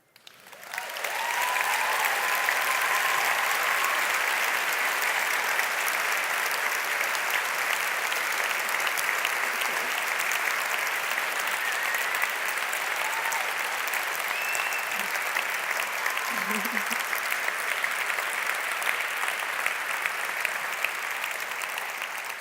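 A keynote audience on a main stage claps continuously, a dense, sustained wash of applause that holds steady for the whole stretch, loud and close, with faint voices barely surfacing.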